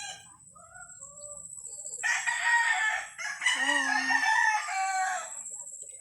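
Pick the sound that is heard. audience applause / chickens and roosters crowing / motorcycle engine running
chickens and roosters crowing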